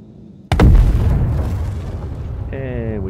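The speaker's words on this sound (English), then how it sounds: "And we blow up." An explosion in the video game Gravlab hits as a sudden loud boom, followed by a long rumbling decay and a rising electronic tone near the end.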